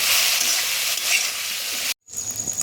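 Cut eggplant pieces fry on a high flame, making a loud, steady sizzle for about two seconds that stops abruptly, then returns as a quieter crackling hiss with a thin high whine.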